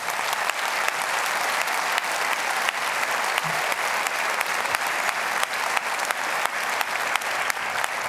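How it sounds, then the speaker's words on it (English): A large auditorium audience in Stockholm applauds steadily and densely throughout, a continuous wash of clapping with no break. "as you can hear here in the auditorium in Stockholm, and if we could hear that applause around the world, it would be thunderous"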